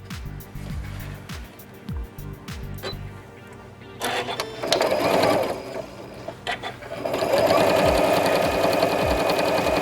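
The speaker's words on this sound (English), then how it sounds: "take it to the machine and top stitch it" Sewing machine top stitching folded fabric ties for a surgical-style face mask, running in short bursts at first and then in longer steady stretches of stitching.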